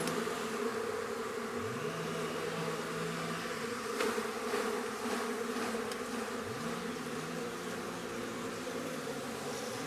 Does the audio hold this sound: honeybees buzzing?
yes